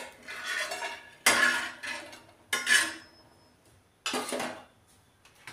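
Metal spoon scraping and clattering against a pan while roasted coconut is stirred in a little oil and then removed, with a few sharp, loud scrapes separated by softer rustling.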